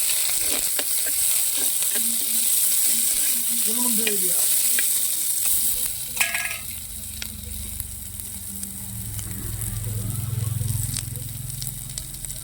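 Onions and green chillies sauté in a pan with a loud, steady sizzle and crackle, close up, with occasional stirring scrapes and a faint voice-like murmur partway through.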